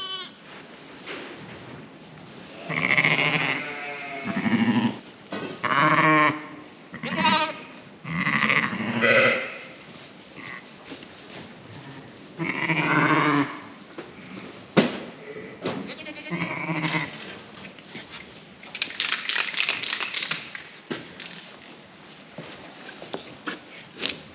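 A quiet sheep stands while two lambs suckle from her during lambing, with repeated sheep bleats close by across the scene and some faint movement and shuffling between the calls.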